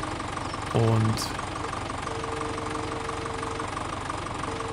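A small tractor engine idles with a steady, even mechanical hum in Landwirtschafts-Simulator 17 on PS4, while someone briefly speaks over it.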